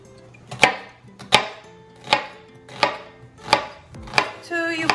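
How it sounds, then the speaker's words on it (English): A knife slices an onion on a cutting board for potato and onion piroshki, with six crisp, evenly spaced cuts about a second apart, close and clear with no talking. "So we just slice our onion."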